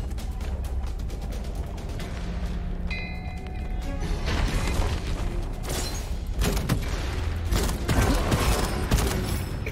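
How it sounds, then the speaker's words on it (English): Gunfire battle in the shooter game Gunfire Reborn with loud bursts and crashing blasts dense through the second half, continuous and close with mechanical clatter underneath. "Explosions. Indeed."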